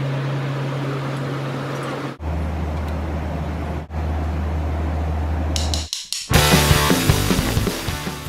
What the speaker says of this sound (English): First, I get to take a taxi